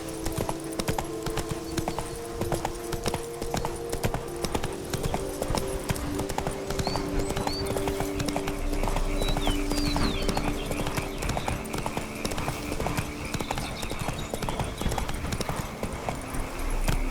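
Horse hooves clip-clop steadily at a gallop in The Witcher 3, a continuous rhythmic pounding over game ambience and music, with a brief neigh or snort and a little speech.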